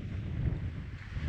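Strong wind buffets the microphone on an open steppe in Kazakhstan, a steady low roar with no voices.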